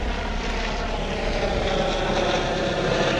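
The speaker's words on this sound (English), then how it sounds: "That's a crazy blue helicopter, buddy." A blue helicopter passes overhead with a steady, loud engine and rotor roar that holds through the whole stretch, with no voices.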